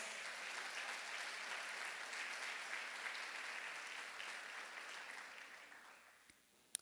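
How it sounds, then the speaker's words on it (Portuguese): Church congregation giving a loud round of applause, a dense steady wash of many hands clapping that holds for several seconds and then fades out toward the end. "Dê mais uma forte salva de palmas"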